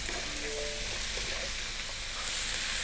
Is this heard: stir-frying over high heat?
yes